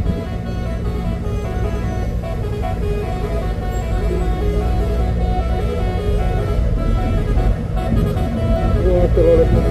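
A Hino trailer truck climbing an uphill road on Bukit Kodo, a loud, steady diesel engine drone close by that holds without a break, with people talking over it.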